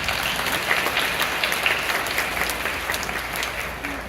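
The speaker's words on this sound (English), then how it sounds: "So another round of applause." Audience applause at a nursing pinning ceremony, a sustained round of clapping from a moderately distant crowd with a few sharper claps, easing off slightly toward the end.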